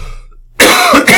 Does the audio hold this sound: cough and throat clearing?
yes